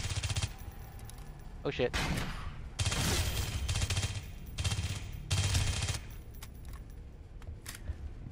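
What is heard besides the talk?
gunfire in a video game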